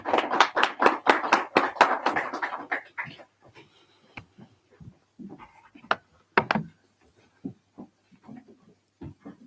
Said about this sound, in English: Can you applaud for him to join us?